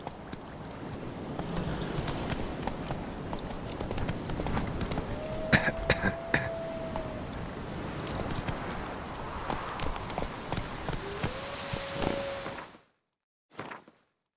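Roach, the horse in The Witcher 3, gallops with steady clip-clop hoofbeats under a game soundscape for about twelve seconds, with brief whooshes, before cutting to near silence.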